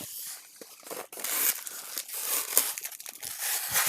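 Scissors cut and tear through plastic toy packaging from a Justice League Mother Box collectible set, giving crisp crinkling and snipping bursts up close, with no talking.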